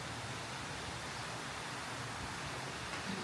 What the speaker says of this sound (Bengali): শেষ পর্যন্ত বৃষ্টি নেমে গেল